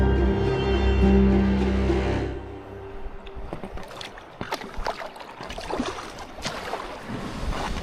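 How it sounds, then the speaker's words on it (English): Strong wind gusting in Patagonia, a loud buffeting roar at first that eases into rough, uneven rushing with scattered crackles and knocks, no talking. "Wind's really pushing us back."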